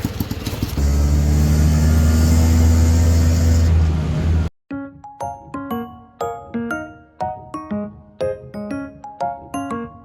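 An auto rickshaw engine runs with a loud, steady, rough drone for about four seconds, then cuts off abruptly and is followed by a string of bright, chiming melodic tones.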